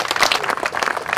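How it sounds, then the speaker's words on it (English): A short burst of dense clapping from a crowd, steady and fairly close, for the families of border agents at a Senate Republicans' border trip event. "So how about a round of applause for your families who put up with this?"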